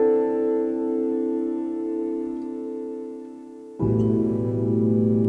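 Sustained keyboard chords for a dark beat, one held chord ringing and fading before a second, lower chord enters firmly and sustains to the end.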